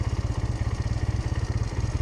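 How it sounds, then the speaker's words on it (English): A motorcycle engine during a riding-course drill, as the rider works the throttle and clutch at low speed. It makes a steady, close, rapidly pulsing low putter with no voices. "get some throttle, use the clutch to maintain speed"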